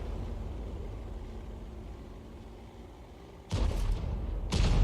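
An artillery shell fired from an SU-14-2 self-propelled gun in World of Tanks: a heavy, booming blast over a low engine rumble, followed by a second loud burst moments later.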